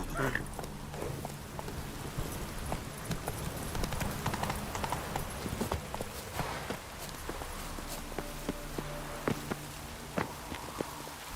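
Hoofbeats of the horse Roach galloping in The Witcher game pound in a quick, repeating clatter over a background hum of game sound, with a voice speaking briefly.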